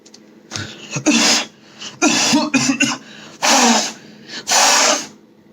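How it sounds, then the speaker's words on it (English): A person posing as a COVID-19 infected patient coughs and sneezes, with several loud, forceful bursts spaced about a second apart, close up with no talking. "I'll be coughing and sneezing."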